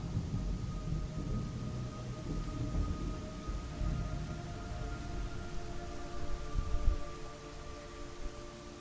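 Steady rain with rumbling thunder in the stealth action game Metal Gear Solid Delta, a constant wash of falling water under low booming rolls that swell near the end, with a faint tonal hum.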